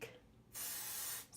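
Hairspray from an aerosol can sprayed onto curled hair extensions in one steady, close hiss lasting under a second, followed by a brief second puff.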